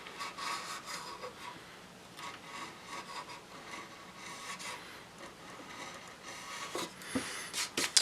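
A 1.5 inch chisel shaves wood on a window flower box in a run of dry scraping strokes, close and uneven in rhythm, with no voices.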